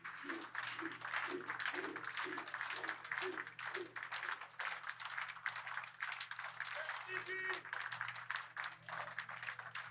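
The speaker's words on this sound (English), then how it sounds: "Respectful applause." Respectful applause from a large outdoor crowd as Guy Lafleur's hearse leaves the church after his national funeral, steady sustained clapping over a constant low hum, with some crowd voices mixed in.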